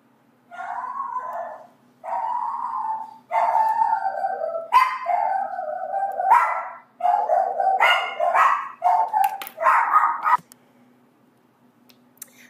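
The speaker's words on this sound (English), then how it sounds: "Sorry about the dogs barking there." Several dogs bark, yip and howl nearby in repeated bursts of varying length for about ten seconds, then fall quiet. No one speaks.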